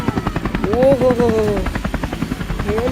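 A voice imitates a toy helicopter with a rapid, rhythmic chopping buzz and rising and falling whistling tones, close and loud, while someone talks playfully over it.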